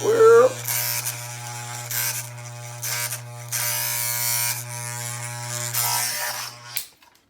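Close, buzzing electric razor shaving the sides of a head with dreadlocks, its steady hum broken by short dips and changes in tone as it moves against the hair, then switching off at the end.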